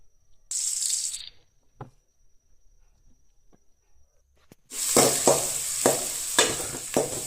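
Crushed garlic hits hot oil in a pan for a chicken fry: a brief burst of sizzle, a quiet pause with a couple of taps, then loud crackling frying with rhythmic stirring scrapes.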